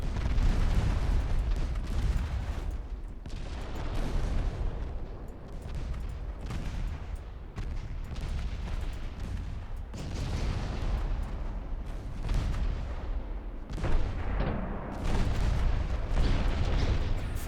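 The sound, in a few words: naval artillery fire in the video game Ultimate Admiral: Dreadnoughts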